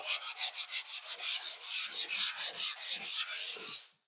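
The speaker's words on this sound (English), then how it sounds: "So you can see how there I did a little light sand." Light hand sanding of drywall joint compound over a tape line: a fast, even rhythm of close, raspy back-and-forth strokes, about fifteen in a row, with nothing else heard.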